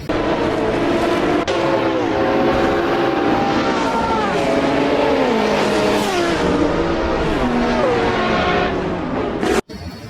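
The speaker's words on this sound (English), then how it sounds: "Wow, it's a yellow color F1 racing car, guys." A yellow F1 racing car's engine whines loudly and continuously, its pitch rising and dropping again and again as if shifting through gears, with an abrupt cut near the end.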